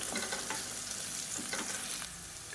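Chopped onions with a little mint and curry leaves sauté in a pan for a cauliflower kulambu, giving a soft, steady sizzle with faint stirring scrapes throughout, no voices.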